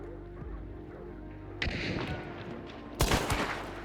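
Gunfire from Hunt: Showdown, with two loud, sharp reports about a second and a half apart, each ringing out over a low ambient rumble with no voices.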